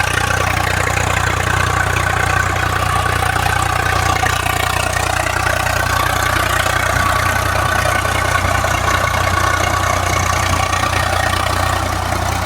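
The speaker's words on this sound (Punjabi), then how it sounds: "ਟਰੈਕਟਰ ਚੱਲਦਾ ਦੇਖ ਲਓ" Continuous low rumble of a tractor engine running steadily nearby while ploughing a diseased paddy field, loud and unbroken throughout with no voices.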